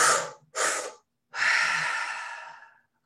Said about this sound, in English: Give me 3 more at whatever speed you're doing these cycles of breath.